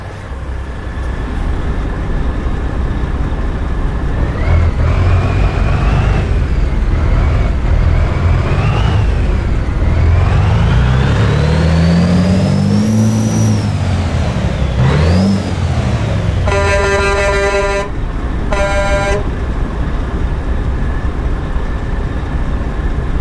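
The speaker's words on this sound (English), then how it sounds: "Let's start the engine." A heavy haul truck in Euro Truck Simulator cranks and fires up, then its engine revs repeatedly, rising and falling in pitch, loud and steady. Sharp air-brake hisses follow near the end.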